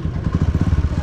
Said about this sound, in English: It's one motorbike and it can hang 8 person.